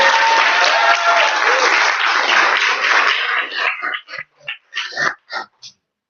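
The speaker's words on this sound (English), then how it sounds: "I want to hear an extra large, extra happy round of applause for Go Livery" A crowd at a startup event gives an enthusiastic round of applause for a team, loud dense clapping that breaks apart into scattered individual claps near the end.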